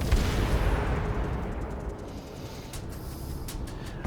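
Heavy warship main battery guns fire in World of Warships, a deep booming roll fading slowly, followed by a few faint distant thuds.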